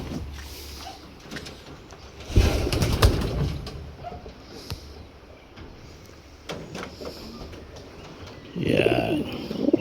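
Pigeons are released from a loft on a first flight, with cooing, wing flaps and the clatter of the loft door mixed with faint background talk and a few louder bursts of movement.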